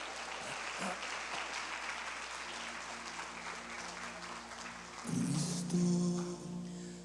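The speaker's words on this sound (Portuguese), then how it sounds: "dê para Jesus uma linda e forte salva de palmas" A church congregation claps in a loud, sustained round of applause, a dense wash of hand claps that swells near the end, with some musical tones and voices mixed in underneath.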